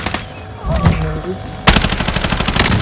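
Rapid Warzone video game gunfire erupts suddenly and loud after quieter sounds, a dense burst of automatic shots that runs to the end.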